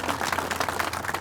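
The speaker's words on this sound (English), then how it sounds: "Give them a round of applause as well for your support and your appreciation." Audience at a Utility Worker Appreciation Day event clapping in dense, steady applause for about a second, alone.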